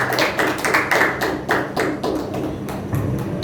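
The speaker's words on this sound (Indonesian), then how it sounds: "Tepuk tangan dulu buat saudara Iqbal." At a candidates' debate, the audience applauds for candidate Iqbal, a fairly sparse room of clappers whose distinct claps fall in a loose, roughly regular beat and stay strong for the whole stretch, with no voice on top.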